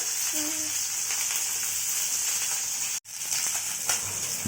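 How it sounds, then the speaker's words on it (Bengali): Bhola fish fries in a pan in a home kitchen, a steady hissing sizzle with faint crackles, broken by a brief cut in sound midway. "ছেলেকে কোলে নিয়েই মাছ ভাজতে হচ্ছে"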